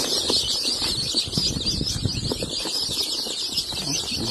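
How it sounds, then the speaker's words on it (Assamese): A crowd of local chicken chicks being delivered, about 150 of them, cheeping shrilly and continuously with fluttering and scuffling underneath, close and dense, no talk. "150 পোৱালি ডেলিভাৰী দিব আহিলে আজি।"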